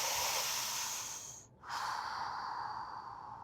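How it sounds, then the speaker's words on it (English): A slow breath drawn in during a lower-body stretching exercise, a close airy hiss that pauses briefly and then continues softer, with no talking. "Breathe in."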